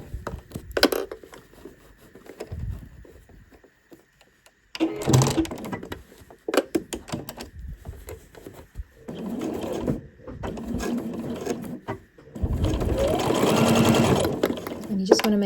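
An overlocker stitches a 1 centimetre seam in bursts, a quick mechanical whirring that starts and stops several times, with the longest run at the end, alongside talking.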